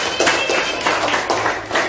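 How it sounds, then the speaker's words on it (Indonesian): A classroom of pupils claps for a classmate during a lesson: quick, rhythmic hand claps repeating in a steady beat, close and fairly loud, with no speech over them. "tepuk tangan Zaki"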